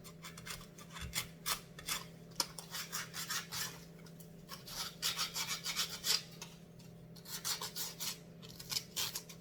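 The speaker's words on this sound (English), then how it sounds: "Then I will take my sandpaper and get to the areas that I couldn't reach" Sandpaper is rubbed by hand over painted metal, especially around joints, in quick repeated rasping strokes in uneven bursts, close and fairly quiet over a steady low hum.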